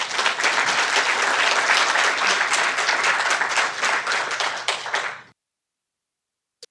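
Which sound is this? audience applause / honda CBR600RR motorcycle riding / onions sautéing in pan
audience applause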